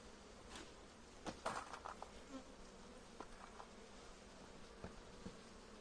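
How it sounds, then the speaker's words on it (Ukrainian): A faint, steady honeybee buzz hums in a quiet space, with a few soft taps and brief flutters along the way, as the bee flies out to relieve itself. "бджола опорожняється, літає і опорожняється"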